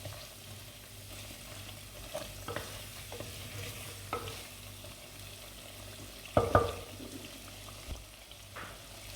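Chicken sautés with cumin, salt and other spices for Lahori murgh cholay, a quiet, low sizzle under scattered clinks and scrapes of stirring, with one louder clatter near the end.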